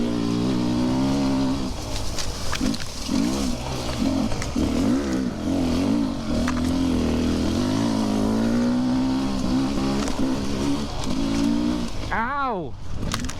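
Two-stroke enduro motorcycles, a Beta 300RR and a KTM 300TBI, ridden hard at night, with a loud continuous engine drone that revs up and down throughout and a sharp rev sweep near the end. A voice speaks over the engines.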